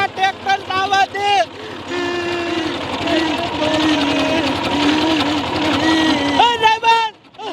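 A tractor engine runs loud and close with a steady droning throb, while voices talk and shout over it and the noise drops away near the end.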